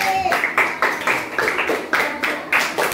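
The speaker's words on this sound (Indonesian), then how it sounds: "Tepuk tangan dulu dong buat orang yang udah berani." Classroom children clap together for a brave classmate in a rhythmic, evenly paced pattern of about a dozen claps, with some voices mixed in.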